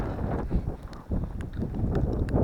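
Strong wind gusts and roars across a snowy winter river during a blizzard while fishing, buffeting the microphone in uneven loud surges with faint clatters underneath, no one speaking.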